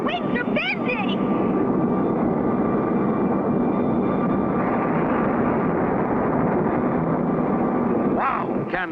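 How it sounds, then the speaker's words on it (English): Steady roar of a propeller airplane in flight in a 1960 cartoon fills the whole stretch, with voices talking over the engine drone. "Can Clutch's plane possibly stay together?"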